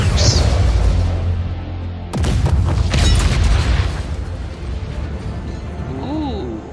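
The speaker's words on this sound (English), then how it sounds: "Nice fireworks." Fireworks bursting in an online combat video game, with deep booming explosions and crackle under voice chat, loud and close.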